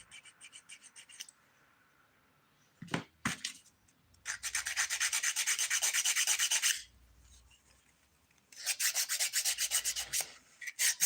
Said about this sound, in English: I should just keep the ergo file till the end